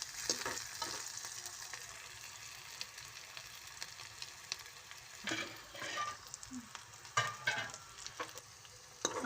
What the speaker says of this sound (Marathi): हे छानपैकी परतून घ्यायचं.